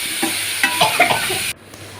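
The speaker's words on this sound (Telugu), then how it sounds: "ఇవన్నీ వేసుకుని కళాయిలో ఆయిల్లో కలుపుకుందాం కొంచెం బ్రౌన్ కలర్ వచ్చే వరకు" Ingredients and chopped coriander being stir-fried in oil in a kadai for Rayalaseema-style uggani, with a steady sizzle and several scraping stirs, close and fairly loud, before the frying noise drops away near the end.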